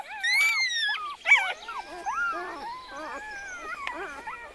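Wolf pups in the Chernobyl zone whimper and yelp in a rapid string of high, wavering, squeaky cries, close and clear against a quiet background.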